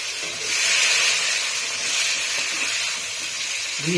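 Eggplant pieces fry in hot oil with a steady, close sizzling hiss that fills the whole moment without any talking.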